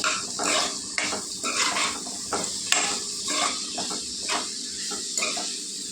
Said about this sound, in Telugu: మునక్కాయలని ఉల్లిపాయలకు పసుపు ఉప్పు పట్టేలాగా కలుపుకుందాం మనం.